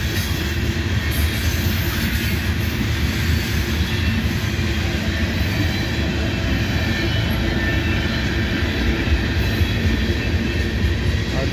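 A freight train with Union Pacific boxcars accelerating on the mainline toward 45 mph, a loud, steady rumble of wheels and cars rolling past close by, continuous with no pauses and no talk.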